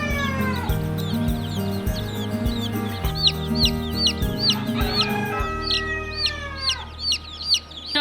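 Baby chicks from Cackle Hatchery peep in a rapid, high chirping chorus that carries on throughout, near and lively, over a low steady hum and a few muffled thumps early on.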